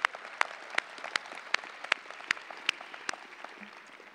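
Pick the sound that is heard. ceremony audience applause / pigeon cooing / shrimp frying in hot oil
ceremony audience applause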